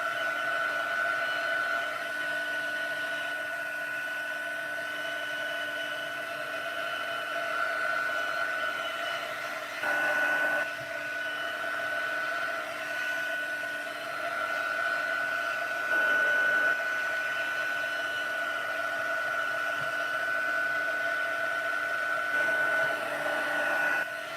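A heat tool blows continuously to dry ink on stamped gift tags, a steady whirring hum with a few brief bumps in level, close and alone.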